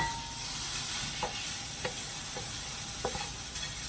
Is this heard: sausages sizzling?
yes